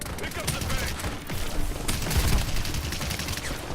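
Rapid gunfire and explosive bursts crackle through a round of the video game Paladins, a dense continuous barrage with a grenade blast, while someone speaks French underneath.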